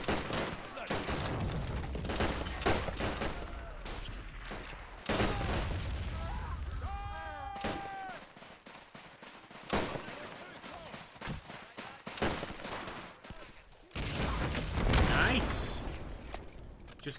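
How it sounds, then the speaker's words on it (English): Mortar blasts and gunfire crack through a German Revolution 1919 strategy game battle between Freikorps and Spartacists, coming in dense bursts of booms and shots with quieter gaps, with someone talking over parts of it. "Just complete direct hits with those mortars."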